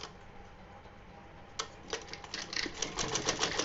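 Sewing machine stitching lace trim onto fabric for a small doll dress: faint, rapid mechanical ticking that starts sparse and builds into a steady stitching rhythm, close and quiet.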